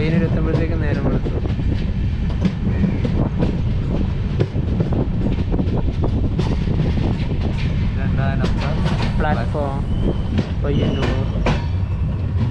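The Netravati Express rolls through Payyanur railway station with loud, close clickety-clack of wheels and rumbling carriages. Wind buffets the microphone, and voices talk over the train noise.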